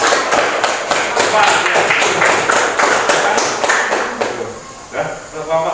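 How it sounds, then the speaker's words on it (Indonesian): A classroom group of students is applauded, with a burst of clapping and tapping running through the whole stretch, fairly close and loud, mixed with background voices and chatter. "Tepuk tangan dulu untuk kelompok."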